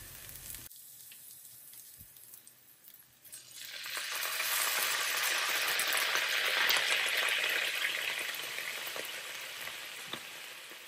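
Butter, onions and chicken stock sizzle and fry in a pan over low heat, starting quietly and swelling into a loud, steady, hissing crackle that holds for several seconds before easing slightly.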